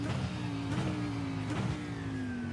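A GT3 race car engine in the iRacing sim at Daytona drones steadily at high revs, a sustained tone that slowly drops in pitch as the car holds speed, with no talk over it.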